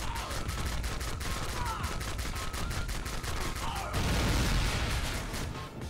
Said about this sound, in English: Gunfight at the OK Corral.